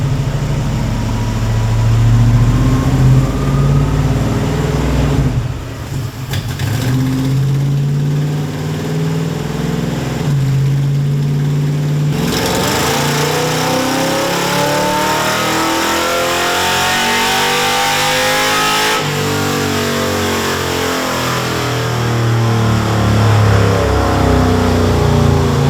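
A junkyard 6.4 HEMI V8 roars loudly on a dyno, climbing through steady revving pulls with a brief dip in the middle, powerful and close throughout.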